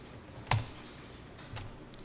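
A single crisp key press on a computer keyboard, like a firm tap of the Enter key, lands close and clear, with a fainter tap about a second later against a quiet room and no talking.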